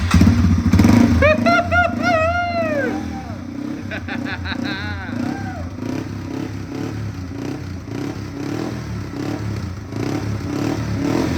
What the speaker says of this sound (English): so Timmy, turn on the gas and let's see if this thing starts